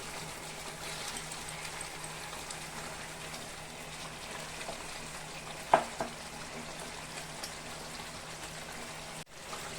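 Chicken roasting in a pan, just flipped, gives a soft, steady sizzle and crackle throughout, with a single sharp clatter partway through and no talking.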